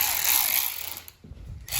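A ratchet wrench tightens bolts on a rebuilt Chevy 283 engine in a 1974 Chevy Nova, giving close, loud metallic ratcheting clicks in a short burst, a brief pause, then more clicking.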